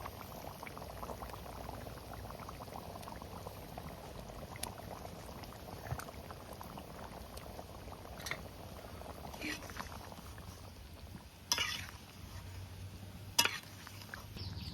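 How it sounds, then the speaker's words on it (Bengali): Fried singhi fish slipped into a simmering mankochu (giant taro) curry and stirred, a steady low bubbling and liquid churn with a few sharper clinks and splashes near the end. "এখন ভেজে রাখা মাছগুলোকে দিয়ে দেবো ঝোলের মধ্যে।"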